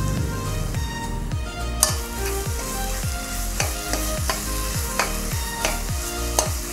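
Tender raw jackfruit palya stirred in a pan on a medium flame, with a steady sizzle and repeated rhythmic scraping strokes of a spoon, close and alone without talk.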